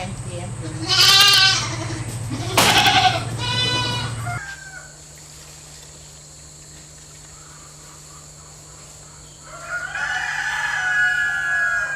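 A mother goat at a goat-milking demonstration in Papua New Guinea bleats a few times close by, with a rooster crowing and a person speaking at the start.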